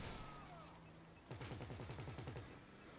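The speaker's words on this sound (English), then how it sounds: "There's the top cannon going off." Rapid burst of automatic cannon fire from a vehicle's top-mounted cannon in the video game GTA 5, a quick run of repeated thumping shots after a brief quieter stretch, faint overall.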